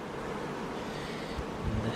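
Bees hum and buzz in a dense, steady swarm, close to the listener, with a faint breezy hiss underneath.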